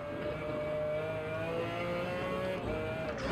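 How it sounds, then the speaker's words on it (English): A high-revving BMW V12 in a McLaren F1 GTR race car, in Gran Turismo 7 at the Nürburgring, drones steadily with a strained, tonal whine, sounding like a race car held at speed. "BMW V12 in the back of this McLaren, it's an angry kind of sounding V12."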